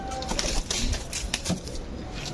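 Soft pigeon cooing with faint wing flutters and rustling, steady background noise throughout, no voices.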